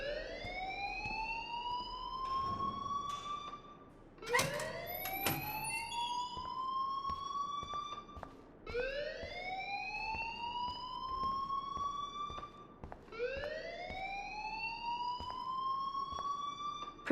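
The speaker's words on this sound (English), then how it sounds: "please turn off that alarm since that's your job" A school alarm rings in the video game Life Is Strange, a loud electronic siren that sweeps upward in pitch, repeating four times in a steady cycle with faint clicks and background noise between.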